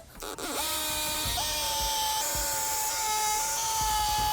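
A power drill bores into wood while building a pergola, spinning up with a whining pitch rise and then holding a loud steady drone close by, with faint knocks beneath.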